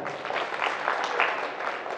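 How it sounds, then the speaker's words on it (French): Audience applause at a personal-development talk, a steady dense patter of many hands clapping close by for about two seconds with no voices on top. "applaudissez pour elle"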